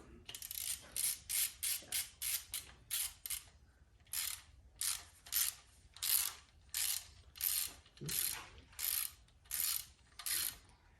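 A ratchet snugs ARP main cap bolts on an engine block in quick repeated bursts of sharp clicking strokes, close and crisp with short pauses between sets.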